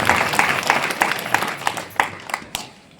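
An audience claps for a young girl after she sings: a burst of fairly quick, rhythmic hand claps from a small crowd, strong at first and then thinning and fading over a few seconds.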